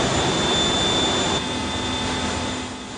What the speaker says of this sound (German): Die sogenannten Hilfsaggregate, das sind Motoren zum Beispiel zur Stromerzeugung, Kühlung und Heizung,